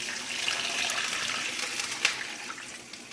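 A cup of water poured into a pan of apples while cooking potatoes and chicken, heard as a steady close rushing pour running throughout with a brief splash near the end, no talking.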